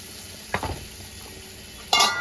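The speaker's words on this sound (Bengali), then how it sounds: "এবার এটা উচ্ছের সঙ্গে মশলাটাকে একটু ভালো করে কষিয়ে নেব।" Spice paste sautéed with bitter gourd in a pan, giving a low steady sizzle with a couple of brief stirring scrapes and a louder clatter near the end, no talking.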